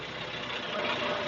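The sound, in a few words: TYM T574 tractor engine while operating front end loader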